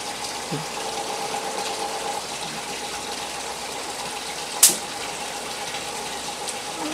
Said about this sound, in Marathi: मोटर आपली व्यवस्थित आहे आणि पाणी येते